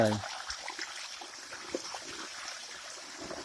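Water from a hose trickles and splashes steadily, a soft continuous flow with light spattering throughout, fairly close.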